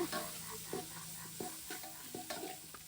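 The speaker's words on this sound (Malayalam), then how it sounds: "തക്കാളിയും കൂടി ഇട്ട് കൊടുക്കുന്നുണ്ട്" Tomatoes tip into a hot frying pan with turmeric and sizzle steadily while a spoon stirs them, scraping with several clear knocks against the pan.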